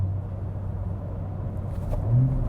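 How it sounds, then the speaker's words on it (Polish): A Toyota Supra Final Edition gives a low, steady engine rumble that swells slightly toward the end as it picks up speed from around 1200 rpm, heard from inside the car with no talk. "Pojedziemy sobie, proszę bardzo, mam teraz jakieś 1200 obrotów, 50 na godzinę i zobaczcie, jak ona się rozpędza"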